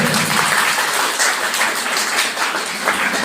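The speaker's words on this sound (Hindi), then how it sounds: "तालियों की आवाज आ रही है वैसे।" Sustained audience applause fills the room during a boys' school quiz competition on the life of Quaid-e-Azam, a dense, steady wash of many hands clapping at close range without a break.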